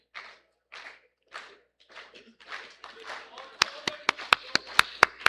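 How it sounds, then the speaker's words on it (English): A few sharp, separate hand claps at a school assembly, close and crisp in an irregular rhythm, following a stretch of someone speaking. "A big round of applause for them."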